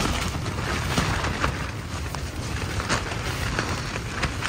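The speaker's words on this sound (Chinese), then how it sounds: "这风真大呀。" Strong gusty wind buffets a tent campsite in the mountains outside Beijing during a high-wind warning, a dense, roaring rush that swells and dips throughout with no talking.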